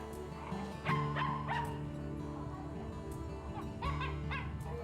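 A dog in a street outside a home gives a few short yips and whimpering barks over a steady hum of background noise, moderately distant, with no clear talking.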